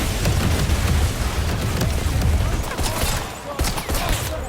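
Heavy, punchy gunfire from 007 First Light fills the scene, a dense continuous volley of loud shots and booming impacts with sharp cracks toward the end, no voices present.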